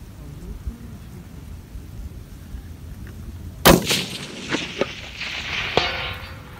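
Rifle with a Monza 61 barrel firing at a target 471 metres away, one sharp, loud shot midway through followed by a rolling echo, with outdoor background noise beforehand.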